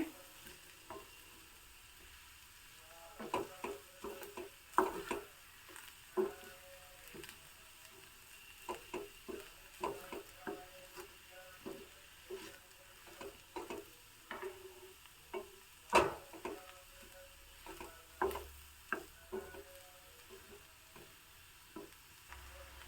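Ingredients dry-roasting in a pan for a traditional Halenadu Karnataka Brahmin dish, with a steady soft sizzle and repeated scraping stirs and knocks of a spoon against the pan at an uneven rhythm, close up and with no talk.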